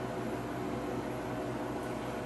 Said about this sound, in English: And now the freeze dryer is freezing.